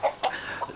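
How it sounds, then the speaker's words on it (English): Two roosters scuffle, giving short clucks and squawks in quick irregular bursts, fairly close and moderately loud, with no voices over them. "two roosters are having a fight"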